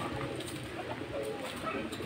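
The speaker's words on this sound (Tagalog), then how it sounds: "Nakakaawa naman tong ibon natin na to." An injured pigeon in a cage gives soft, close cooing over a low background hum, brief and muffled, with no speech.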